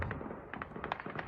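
Semi-automatic rifle fire in live wartime footage from Kyiv, a rapid series of sharp distant cracks and pops over background noise, each shot brief and fairly faint.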